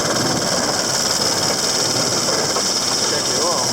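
Engine with a massive flywheel running steadily at idle, a continuous rough mechanical chug with high-pitched whine on top, close by, with voices talking over it.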